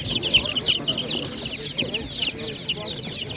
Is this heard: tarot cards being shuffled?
no